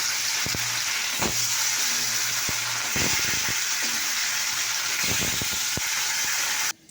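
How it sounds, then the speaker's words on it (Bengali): Fish fries in hot oil in a wok with a steady, loud sizzle from start to finish, broken by a few sharp spits and crackles and the occasional scrape of stirring. "মাছটা এখন একটু ভেজে নেব আমি।"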